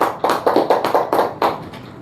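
Applause for a winner at a weekly prize draw: a crowd claps in fast, steady bursts that keep a regular beat for two seconds.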